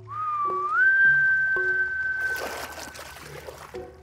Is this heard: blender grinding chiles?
no